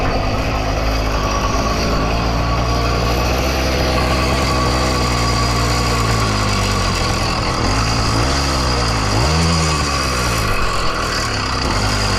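Up close, a 100cc two-stroke engine on a motorized bicycle idles in a steady, rattly putter, dipping briefly in pitch near the end, with no voices.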